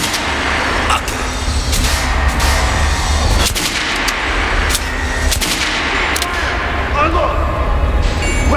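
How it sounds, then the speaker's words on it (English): Pistol gunfire from the shooter game Metro Last Light, sharp loud reports repeating every second or so over a dense rumbling background, with voices calling out commands. "Fire! Pistol. Reliable and accurate."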